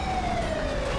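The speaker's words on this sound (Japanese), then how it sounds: "消防車が飛んできた" Fire engine siren in the video game GTA5, a steady wailing tone sliding slowly downward, loud and continuous over a dense rumble of traffic and chaos, no talk.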